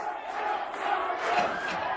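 A crowd at a strongman event shouts and cheers together, a loud sustained roar of many voices that swells toward the middle and stays strong to the end.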